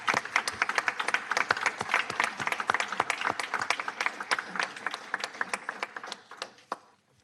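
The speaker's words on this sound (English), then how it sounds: "give Alderwoman McGinnis a round of applause for this" Audience at a city council meeting claps for an alderwoman, a room-sized round of distinct individual claps, fairly close and lively, thinning out and stopping near the end.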